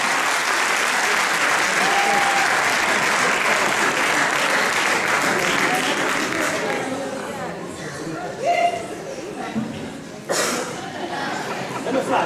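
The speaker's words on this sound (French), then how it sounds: "Je vous prie de l'accueillir dans un tonnerre d'applaudissements" A theatre crowd at the Italofolies 2022 show gives thunderous applause welcoming a performer, loud dense clapping that gradually thins out, with scattered chuckles and murmured chatter near the end.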